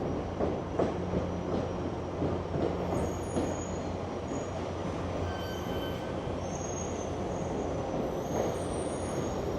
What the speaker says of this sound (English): This is a rather long Via train.